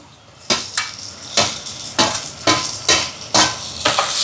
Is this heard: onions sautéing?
yes